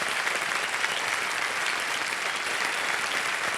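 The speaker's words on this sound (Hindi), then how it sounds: "तालियां बजते रहें।" Studio audience on the Kaun Banega Crorepati quiz show keeps up steady, even applause, a dense wash of clapping heard alone at moderate level.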